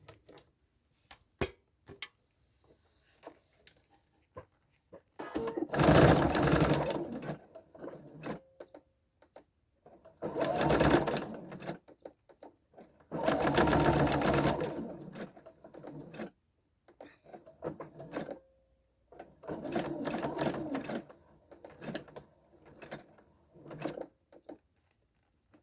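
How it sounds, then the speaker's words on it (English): A sewing machine stitches a silk-satin ribbon scrunchie in several bursts of rapid whirring, separated by pauses filled with faint clicks and handling noises. "So I'm going to sew it."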